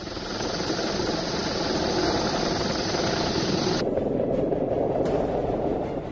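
An Indian Coast Guard rescue helicopter flies over flooded Gujarat during heavy rain, its rotor and engine a loud, steady, continuous roar throughout, with no talking.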